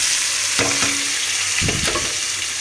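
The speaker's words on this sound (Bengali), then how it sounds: "এখন পেঁয়াজগুলো দিয়ে দেবো" Onions dropped into goat meat already fried with turmeric and salt, setting off a loud, steady sizzle with a couple of scraping stirs, close up and with no talking.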